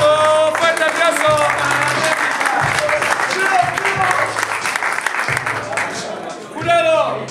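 Loud, sustained crowd applause and cheering at a freestyle rap battle, the quarterfinal of the Copa Litoral 2023, with clapping packed steadily throughout and a burst of shouting voices near the end.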